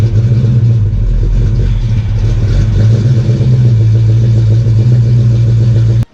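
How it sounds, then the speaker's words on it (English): A Ford Foxbody Mustang engine runs loud and close at a steady, rumbling idle for about six seconds before cutting off abruptly. "now let's start the car up"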